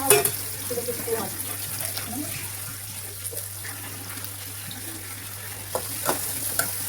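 Chopped onions fry in hot oil for an egg curry, a steady broadband sizzle with a few stirring scrapes and clicks, near and fairly even, under a low constant hum.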